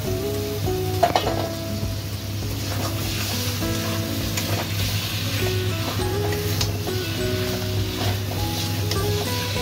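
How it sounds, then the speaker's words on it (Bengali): Boiled mutton is fried and stirred in oil in a pan for a Bengali goat curry. A steady sizzle runs throughout, with a spoon scraping and clinking against the pan and no talk. "মাংসটা ভালো করে কষিয়ে নেব।"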